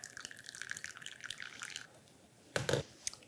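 Water poured gently through an Origami coffee dripper, a soft faint trickle followed by a few close drips near the end.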